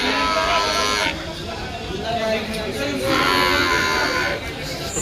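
Pregnant buffaloes at a busy livestock market in Erragadda, Telangana, with low lowing or mooing carried over steady crowd chatter and nearby voices for the whole stretch.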